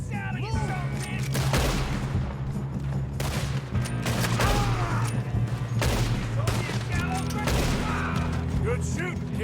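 Rapid bursts of gunfire ring out in a Red Dead Redemption 2 shootout, with close, sharp shots cracking in quick irregular clusters over a low rumbling background, and voices shouting between volleys.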